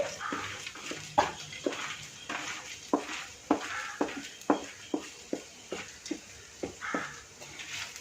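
Dried shrimp, fried earlier, are stirred into a hot pan in a home kitchen, giving a soft steady sizzle broken by a run of sharp spoon scrapes and taps on the pan at a fairly even rhythm.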